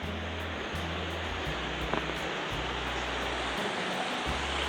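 A creek at a trail crossing on the Cosby area hike in the Great Smoky Mountains rushes steadily, a close, loud broadband wash of flowing water with faint low rumble underneath and no talk.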